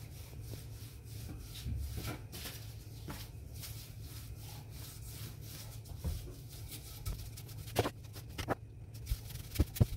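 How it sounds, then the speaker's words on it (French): A rolling pin rolls dough out thin for stuffed bread rolls, making a continuous close rubbing with repeated back-and-forth strokes and a few sharper knocks near the end. "Ensuite, j'étale la pâte finement au rouleau."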